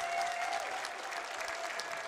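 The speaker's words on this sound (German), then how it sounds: "Dankeschön. Euer Applaus." An audience at a televised music show in a sports arena in Speyer claps in a dense, sustained round of applause, heard at moderate distance and fairly quiet.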